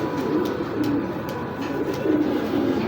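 Settle pied racing pigeons coo steadily and close, their soft, rolling calls overlapping in a continuous low murmur with faint flutters and shuffles throughout.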